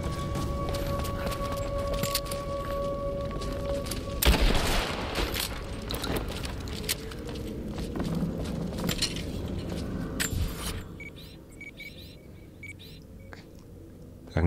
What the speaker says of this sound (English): Who's still shooting at him?